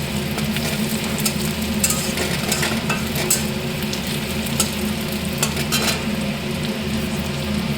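Slit green chillies fry in a generous amount of ghee, giving a steady, dense sizzle with light crackling throughout, close and fairly loud, with no voices.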